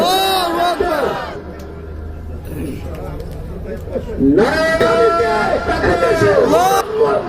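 A large crowd at an Islamic religious rally in Bangladesh roars back the takbir response in unison. Loud massed voices come in sustained bursts, swelling, dipping, then surging again.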